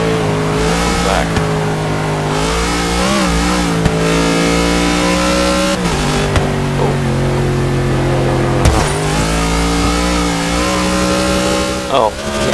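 A Cadillac limousine in Forza Motorsport 6 drifting and spinning out: a loud, steady engine drone rising and falling in pitch as it revs, with a voice talking over it.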